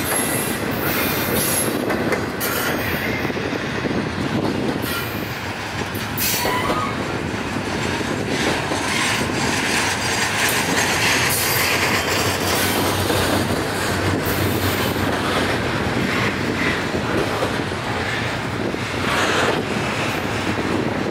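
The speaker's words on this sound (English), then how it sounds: "Wow, he's got a long train today." A long CSX freight train rolls past close by in a loud, continuous rumble of wheels on rails, with squealing wheels and steady wind buffeting the microphone throughout.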